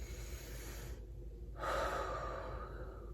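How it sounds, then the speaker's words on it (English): A single deep breath drawn in through the nose during a guided relaxation exercise, a soft close-up rush of air that swells and holds for over a second over faint room hum. "So just take another big breath in."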